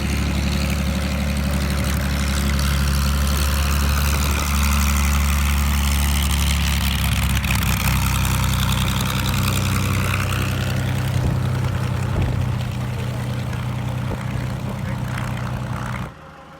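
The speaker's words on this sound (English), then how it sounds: "The P51 just landed. It's just landing right now. It's coming in." A P-51 Mustang coming in to land at a WWII aircraft show: a loud, continuous propeller-engine drone with a deep rumble and shifting pitch, steady throughout before cutting off abruptly at the end.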